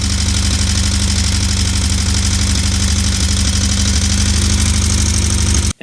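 An air-cooled flat-4 1.6 litre dual-carburettor engine idles close by, a steady, even low throb with a faint rhythmic knock that holds until it cuts out abruptly at the end; no one speaks.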